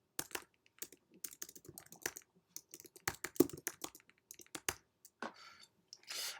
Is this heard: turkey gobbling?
no